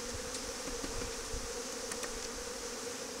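Honeybees buzz around comb taken from railroad ties, a dense, continuous close-up drone of many wings with occasional louder passes near the listener and no voices.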